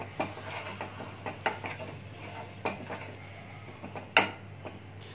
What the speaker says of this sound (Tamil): ஆட் பண்ணி இப்போ இதெல்லாத்தையும் மிக்ஸ் பண்ணிடுங்க.